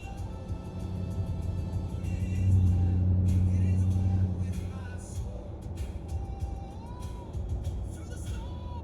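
Nissan Titan pickup fitted with Flowmaster Flow FX mufflers, a steady low exhaust drone running under music playing inside the cab, swelling briefly louder midway before settling back to an even hum.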